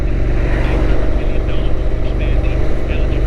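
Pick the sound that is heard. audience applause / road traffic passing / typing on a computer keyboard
road traffic passing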